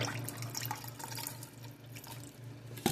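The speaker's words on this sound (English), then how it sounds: "I'm going to go ahead and add my crawfish stock" Homemade crawfish stock, boiled down from crawfish shells, pours steadily into a cooking pot for a bisque, a continuous faint liquid splashing and trickling close by with a low hum beneath.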